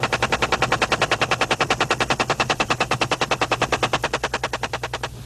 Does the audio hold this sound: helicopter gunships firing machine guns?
yes